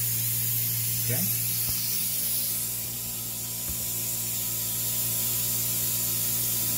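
A pressure brake bleeder hissing steadily while drawing brake fluid through the bleeder screw during a brake flush, a continuous close spray-like hiss with a brief spoken word over it.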